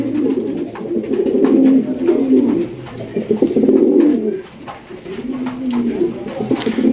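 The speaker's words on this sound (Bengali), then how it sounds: "এক কথায় এটা হচ্ছে পুতুল গড়া কবুতর" Rare fancy-breed pigeons coo nearby in repeated low, rolling phrases, several seconds each, with short pauses between and faint background noise.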